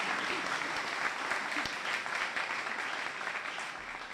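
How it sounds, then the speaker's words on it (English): Audience applause for a pastor at a ribbon-cutting ceremony for a training complex, a steady, full wash of clapping that stays even and fairly distant, tapering slightly at the end. "Y'all give him applause"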